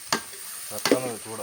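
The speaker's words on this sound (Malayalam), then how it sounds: "എല്ലാം പെട്ടെന്ന് വഴലുന്നുണ്ട്" Tomatoes and green chillies sizzle in a hot pan over high heat, with two sharp scraping stirs and a soft bubbling hiss between them.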